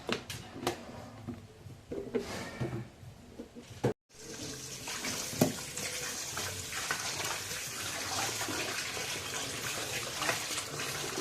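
Running tap water pours steadily while pieces of country chicken are washed by hand with turmeric, splashing and sloshing close by, with a brief pause before the flow resumes louder and continuous.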